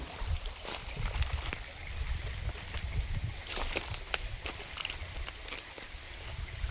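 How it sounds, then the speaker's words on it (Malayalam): A river flowing downstream through a natural setting, with water running in a steady, continuous wash and scattered sloshes and splashes on top, moderately close and fairly quiet throughout. "ജലകണങ്ങൾ ഒഴുകി ഒഴുകി ഒഴുകി ഒഴുകി താഴോട്ട് ഒഴുകുകയാണ്."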